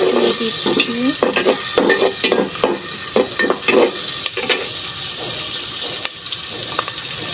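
Onions sizzle in a pan at the start of a bottle gourd and prawn curry, a loud close crackling fry with frequent spatula clatters and stirs, no voice over it.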